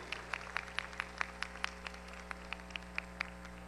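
Sparse, rhythmic clapping from a small audience at a national Italian music festival awards, individual claps distinct and evenly spaced over a steady low hum.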